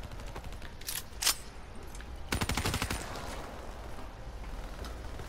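Automatic gunfire in Call of Duty Black Ops III, rapid bursts of close, loud shots with a short burst early and a longer sustained volley midway, then scattered shots over a steady game background.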